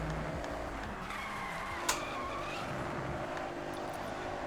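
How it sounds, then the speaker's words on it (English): Race car engine in a racing video game, a fairly quiet steady hum with a brief tyre squeal or skid accent partway through, no voices over it. "It's not a very loud engine."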